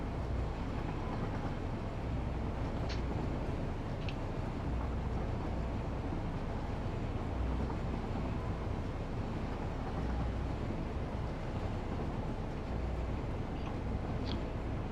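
A train moves along the track in the game Satisfactory. It makes a continuous, even rumble throughout, with a few faint, high metallic ticks over the drone.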